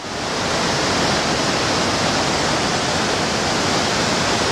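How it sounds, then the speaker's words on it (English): A waterfall on a trail in Skagit Valley roars as a steady, loud, broadband rush of falling water, unbroken and close, with no voices. "So this is the first waterfall that you'll encounter as you head in."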